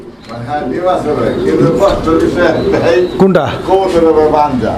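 A racer pigeon, a female from a breeding pair whose male sits on eggs, coos softly at a seller's coop, its low throaty calls mostly buried beneath close, continuous conversation.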